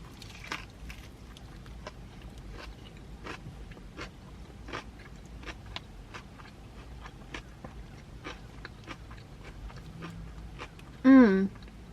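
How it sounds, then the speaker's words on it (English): Close, crisp crunching bites of crunchy bacon come in an irregular rhythm, each a short sharp crackle, with a brief voiced squeal near the end. "The bacon is so crunchy."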